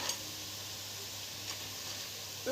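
Hot oil bubbling and hissing steadily around karasev dough frying in a deep pan, a continuous close sizzle with one brief faint tick, no talk.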